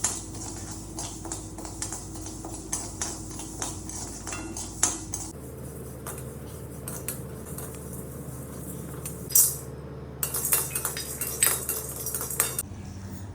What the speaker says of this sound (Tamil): வாங்க இப்போ நான் வந்து வறுக்க போகிறேன்